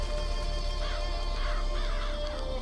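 Crows caw several times in BioShock Infinite, harsh repeated calls that sit at moderate distance inside a dense, steady game soundscape of droning music and ambience, with no talking.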